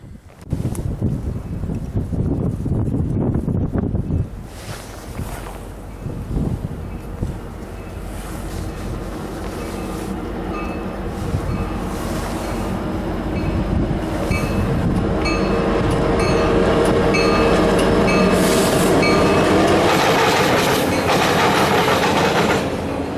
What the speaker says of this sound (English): another CSX autorack train came rolling through westbound